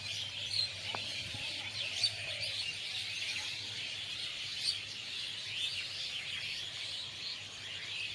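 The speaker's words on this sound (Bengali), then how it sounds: "পাখির কোলাহল" A busy chorus of birds chirping and twittering at a distance as a flock returns to roost at dusk over farm fields, layered over a constant high-pitched hiss of background calls.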